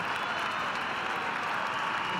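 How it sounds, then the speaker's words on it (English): An arena crowd at an LGCT Madrid show jumping event gives Martin Fuchs a steady ovation, a dense, even wash of clapping and cheering heard from a distance. "What an ovation he gets here from his crowd"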